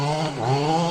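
Gas-powered Losi 5T 3.0 RC truck with a can muffler screaming at full throttle, a brief loud buzzing two-stroke wail that dips and climbs in pitch as it passes nearby.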